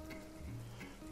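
Tomato is added to a hot pan of oil and paprika, a dense steady sizzle close up with a low hum underneath, continuous and fairly quiet.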